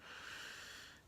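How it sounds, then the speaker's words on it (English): A sleeping dog, a mixed-breed mutt, lets out one faint, drawn-out wheezy snore in a quiet room, heard alone as a soft, breathy rasp lasting about a second. "if you hear snoring in the background"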